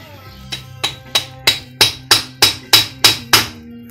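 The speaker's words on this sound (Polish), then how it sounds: "No bez młota nie pójdzie, mówiłem." A hammer strikes a metal bushing on a Honda CRF450X dirt bike about ten times at a steady, quickening pace. Each blow is sharp, ringing and close, with a brief metallic decay and only faint background voice.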